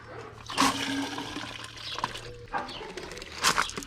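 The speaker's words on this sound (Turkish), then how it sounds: "Şimdi bunları dökeyim. Böyle bayağı koyu bir ilaç." Thick vineyard fungicide against powdery and downy mildew is poured out in gurgling, splashy bursts, fairly quiet and close, with short pauses between pours.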